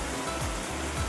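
Heavy rain at Kapilas in Keonjhar drives a strong, forceful rush of water, a loud continuous roar with low churning surges, close by and unaccompanied by speech.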